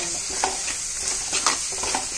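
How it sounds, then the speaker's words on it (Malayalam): Steady hot-oil sizzle of ground masala paste being sautéed in a pan for Kerala fish curry, with soft scraping stir strokes every so often; no talking. "പച്ചവണം മാറുന്ന വരെ ഒന്ന് വഴറ്റണം"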